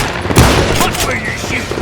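Loud bursts of gunfire in the Western shooter Call of Juarez: Gunslinger, a sharp close shot followed by a rapid volley, with shouting mixed in.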